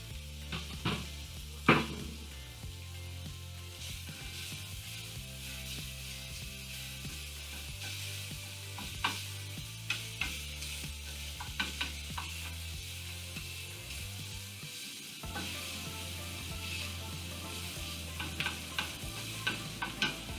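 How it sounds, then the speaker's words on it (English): Chopped bacon sizzling in a hot sauté pan, a continuous soft fry hiss broken by repeated scraping stirs and occasional clacks of a utensil against the pan. "Hot saute pan here. I have a couple pieces of bacon, all chopped up."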